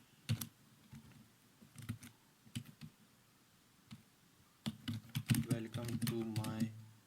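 Python code being typed on a computer keyboard: scattered keystrokes at first, then a quicker burst of typing, close and clear, with someone talking faintly partway through.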